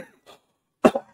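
A person coughs twice in quick succession, close and fairly loud, after a short stretch of near silence with a faint earlier breathy sound.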